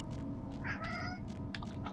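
A cat in the game Vampire: The Masquerade Bloodlines gives one short, close meow over a steady background hum.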